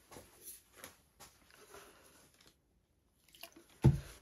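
Acrylic paint for a Dutch pour being thinned with a splash of water: soft wet squishing and dripping, then one louder liquid splat near the end after a brief quiet pause.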